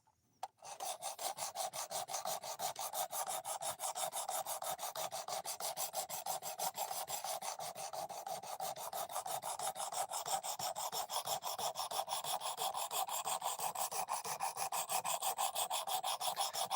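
A knife blade drawn steadily back and forth across a grit sharpening stone, a close, continuous rasping scrape with a fast, even rhythm and no talking.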